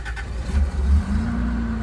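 Toyota Land Cruiser with a 4.5 liter 1FZ-FE engine catching and settling into a steady low idle after a brief cranking start, loud and close, with no talk.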